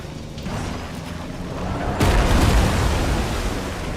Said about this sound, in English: Explosion getting in my way.